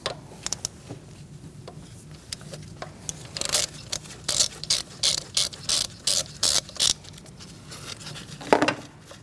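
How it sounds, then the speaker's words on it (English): A ratchet fitted with a 10mm socket works loose an ignition coil bolt on a 2016-2019 Chevrolet Cruze 1.4L, with close, crisp clicking strokes that grow into a rapid rhythmic run of ratcheting bursts. "Now we're going to use a 10mm socket and undo that bolt."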